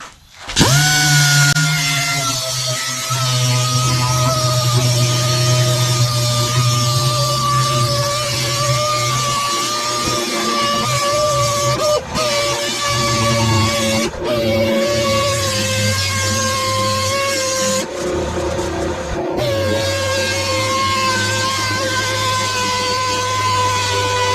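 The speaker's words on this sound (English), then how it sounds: "I'm going to use 80 grit on the DA." An air-powered dual-action sander with 80-grit paper runs steadily on the painted metal of an old John Deere lawn mower, a loud continuous whir with brief pauses and restarts near the end.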